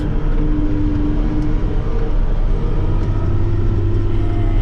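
A John Deere 8760 tractor engine runs at a farm with a loud, steady, deep rumble close by, holding an even pitch without clear revving surges.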